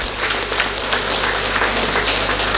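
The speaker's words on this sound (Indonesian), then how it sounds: "Aplaus untuk UPTD." A steady roar of applause from an assembled audience at a formal district gathering for the Kuningan UPTD heads, dense continuous clapping that stays loud throughout with no speech over it.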